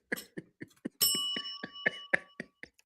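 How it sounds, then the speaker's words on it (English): A bell gives a single clear ding that rings on and sustains, set among a steady run of soft rhythmic taps close by. "My bell needs a bump."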